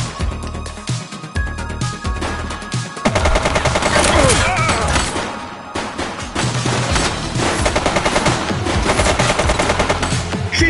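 A woman fires a gun in a police action game called The Precinct, bursts of rapid, loud gunshots rattling close by in a chaotic exchange amid music and effects, with shouting voices mixed in.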